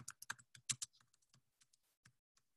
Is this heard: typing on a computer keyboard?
yes